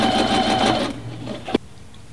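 Sewing machine stitching a dress seam, a steady close mechanical whir that runs for about a second and a half, then stops with a brief clunk.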